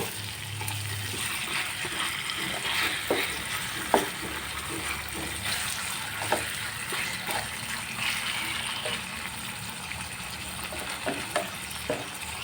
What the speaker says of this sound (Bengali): তো মাছগুলি এখন অ্যাড করে দিয়েছি আর এখন আমি খুবই সুন্দর করে একটু নাড়াচাড়া করে দেব।